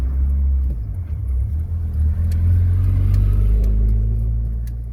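A car engine hums at a low, steady rumble while the vehicle reverses slowly during a driving lesson, loud and close with a slight rise in intensity partway through.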